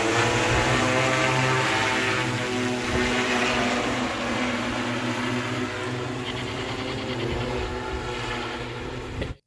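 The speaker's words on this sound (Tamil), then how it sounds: "ட்ரோன் மூலம் விவசாய பயிர்களுக்கு மருந்து தெளிக்கும் நவீன தொழில்நுட்பம் குறித்து செயல் விளக்கமும் செய்து காண்பிக்கப்பட்டது" An agricultural drone spraying crops at a demonstration in Kanchipuram district gives off a loud, steady propeller drone with a layered buzzing tone. It holds constant for nearly ten seconds before cutting off abruptly.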